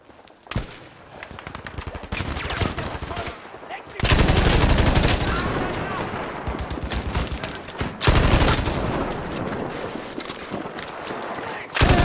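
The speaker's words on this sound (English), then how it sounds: "Shots up the top there." Rapid bursts of automatic gunfire from a Battlefield V match crack loudly in several long volleys separated by brief pauses, with a player's voice talking faintly over the shooting.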